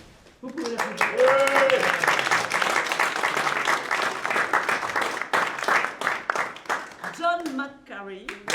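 Audience applause at a book launch in Paris, a dense burst of clapping that swells quickly and holds steady, with voices speaking over it near the start and again as the clapping thins toward the end.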